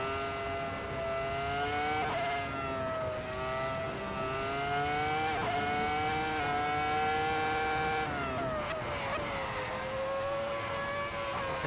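A Formula 1 car's engine holds at the rev limiter along a straight, a loud, steady high-pitched scream with small pitch wobbles and a brief dip near the end, with no talking.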